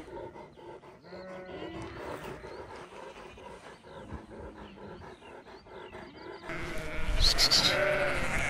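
A flock of sheep bleats in overlapping, wavering calls at a moderate distance, and the sound swells into a louder, harsher burst of bleating near the end.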